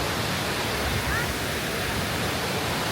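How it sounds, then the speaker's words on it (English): A waterfall on a hike at Doi Inthanon, Thailand, rushes in a steady, dense roar of falling water that fills the whole clip without letup. "We got to come into some very cool waterfalls, very cold, but very refreshing for this hike."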